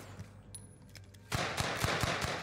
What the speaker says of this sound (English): Smoke grenade, Glow's getting shot at.